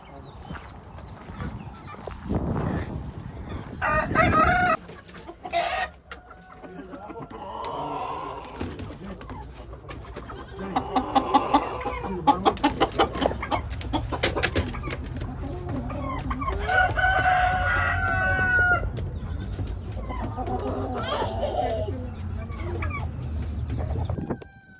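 Roosters crow and chickens cluck at an outdoor swap meet with poultry for sale, several loud calls clustering mid-clip over a busy background of crowd noise and occasional talk.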